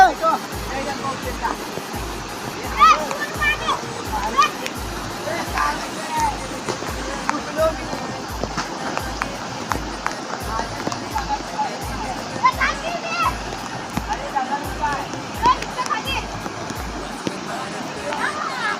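Children splashing in a stream, with a continuous rush of flowing water and intermittent sloshes beneath frequent shouting and talking voices.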